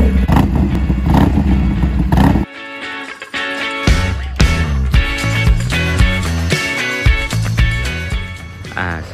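A Harley-Davidson Sportster Iron 1200 with a new 2-into-1 full exhaust system starts up and settles into a loud, lumpy idle close by. The engine is preceded by a brief clatter of activity.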